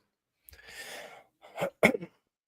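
A short breathy rasp followed by two sharp throat-clearing bursts, close and fairly quiet, with silence around them.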